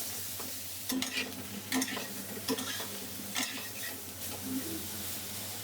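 Drumstick vegetable pieces fry in oil in a pan, a steady close sizzle under a low hum, punctuated by several sharp stirring scrapes.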